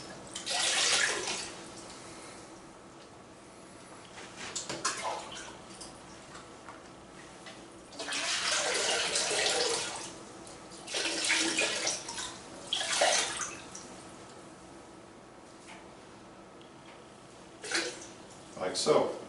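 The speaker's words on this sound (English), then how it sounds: "I'm going to get a glass of the clean rinse water that I have in the bucket over here to do a final clean rinse" Clean rinse water poured through and over a trumpet body, splashing and running in several bursts with pauses between, fairly close, with occasional clinks and a voice talking at times.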